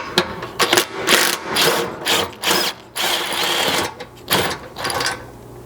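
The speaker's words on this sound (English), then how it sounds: "you'll need your 13 again to reach back in here and remove the 2 top mounting bolts for this." A 13 mm ratchet works loose the top mounting bolts of a Blitz front bumper on a ZR2 Colorado, giving quick bursts of close mechanical clicking and whirring in irregular spurts with short pauses, no voices.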